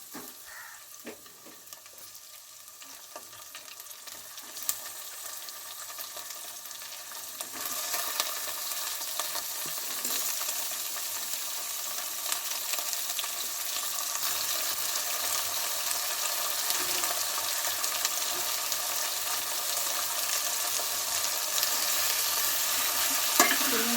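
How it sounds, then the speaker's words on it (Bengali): Pieces of free-range chicken meat going into hot oil, the sizzle and frying swelling louder and steadier after about seven seconds, with occasional stirring clinks. "মাংসগুলো আমি তেলের মধ্যে দিয়ে দিচ্ছি এবার"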